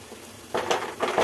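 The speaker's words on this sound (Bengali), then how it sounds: "এবার রসুনটা দিয়েও ভালো করে ভেজে নেব।" Chopped garlic and onion fry in a pan for a short moment, a soft steady sizzle that grows louder and brighter partway through as the food is stirred.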